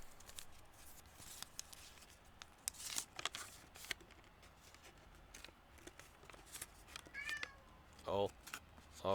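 A house cat meows several times under soft paper rustling and crinkling from folding paper cranes, with a person talking nearby; the meows are faint to moderate and scattered, strongest near the end.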